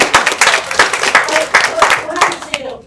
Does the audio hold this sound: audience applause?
yes